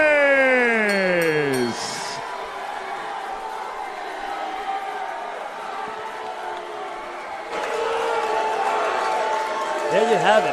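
Boxing arena crowd murmurs and jeers in disapproval of a unanimous decision, a sustained roar that swells louder near the end, with a rising-and-falling siren-like whistle or horn at the start and close.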